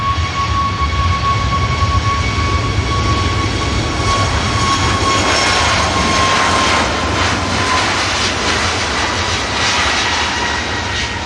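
Ryanair jet departing Manchester Airport for Dublin, a steady loud engine roar with a thin sustained whine tone, continuous throughout with no voices.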